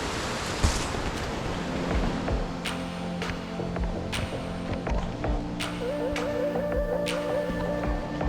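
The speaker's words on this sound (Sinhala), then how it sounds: "වතුර පාරවල් දිගටම තියෙනවා." Continuous rushing of flowing mountain water streams along the Erathna trail to Sri Pada, steady and fairly close, with occasional clicks and faint tonal sounds layered over the stream.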